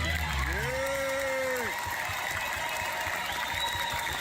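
A crowd at a concert applauds in a dense, steady wash of clapping and noise, with a brief voice near the start.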